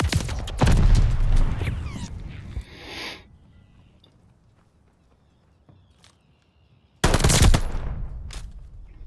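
Hip-fire gunshots ring out in Call of Duty: Vanguard during a 1 vs 1 match, loud rapid bursts at the start and again near the end with a quieter gap between.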